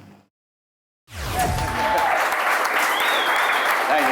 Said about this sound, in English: Round of applause for Harry